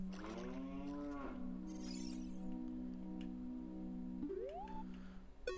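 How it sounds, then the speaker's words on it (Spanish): A cow in Zelda: Ocarina of Time gives a low, drawn-out moo, followed a few seconds later by a shorter second moo, both quiet over a steady game-music background. "Una vaca. Una auténtica y genuina vaca."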